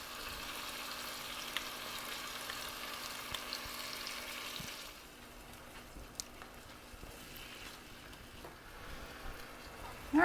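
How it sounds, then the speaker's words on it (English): Chicken pieces frying in a skillet with soy sauce, vinegar and honey, a steady close sizzle that drops to a quieter simmer halfway through, with a sharper burst at the very end. "now I'm going to add the soy sauce, the vinegar,"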